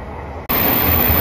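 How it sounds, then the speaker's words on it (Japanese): A JR Shikoku 7000 series local electric train bound for Kan'onji at Marugame Station, its broadband rumble jumping suddenly louder partway through and holding steady, close and dominant with no voices. "丸亀駅普通列車観音寺行き7000系普通電車です。"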